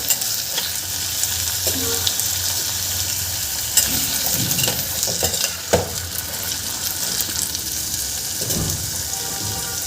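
Vegetables for pea pulao sautéing and being stirred in a pan, a steady close sizzle broken by repeated scraping and clinking strokes of a spoon, with no voices.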